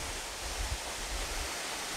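Niagara Falls waterfall in Siuslaw National Forest, Oregon, a steady wash of falling water with a low rumble, heard from a moderate distance.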